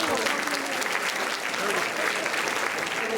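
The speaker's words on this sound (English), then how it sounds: "Let's all give a big applause." An audience applauds Purvi Javeri at a 2011 Tohoku charity event, a steady, full wash of clapping from many hands throughout.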